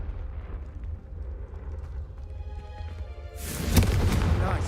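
A Confringo spell in the Hogwarts Legacy video game blasts candelabras. One sudden fiery boom lands near the end, following a stretch of low, busy game ambience.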